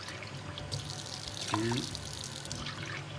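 Water is poured into a cup to measure it for cooking rice, a short, soft splashing trickle that swells for a moment in the middle, while a voice counts over it.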